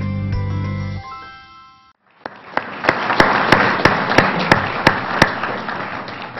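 An audience at the Telegraph Herald First Citizen Award ceremony breaks into applause after a musical sting fades, scattered claps quickly building into steady, fairly close clapping from a room full of people.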